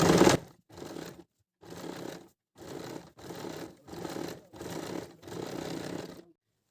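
A sewing machine stitches a woolen salwar leg in seven separate bursts of running, each about half a second long, with short silent pauses between them. The stitching is close and moderately loud, and no one speaks.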